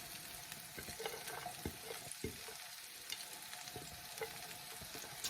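Onions cooking slowly in a pan, a faint, quiet sizzle with occasional clinks and scrapes of a utensil against the pan, heard alone without speech.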